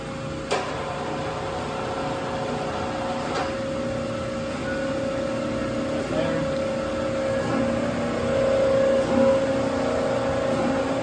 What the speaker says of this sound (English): You hear the pump start up